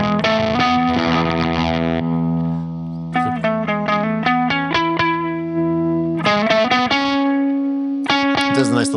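A heavily fuzzed electric guitar through a JHS Kilt fuzz pedal plays bursts of notes that sputter and cut off abruptly, choked and gated like a pedal with a failing battery, loud and close.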